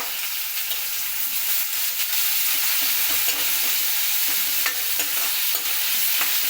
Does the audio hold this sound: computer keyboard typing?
no